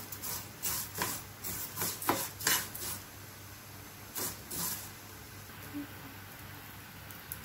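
Vermicelli roasting in desi ghee in a pan over a low flame, heard as faint, soft scraping and rustling bursts from stirring, irregular and quiet, with no talk.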